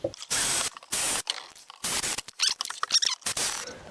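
A power drill or driver runs in several short bursts, driving screws into wooden support pieces for a bed lift kit, with whirring pulses separated by brief pauses and a squeaky mechanical ratchet edge.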